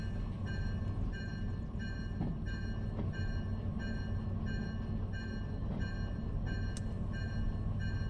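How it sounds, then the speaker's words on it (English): EMD export locomotive running in the Derail Valley video game, a steady low rumble of rolling wagons with regularly repeating rhythmic clicks, heard close and continuous. "This is an American locomotive."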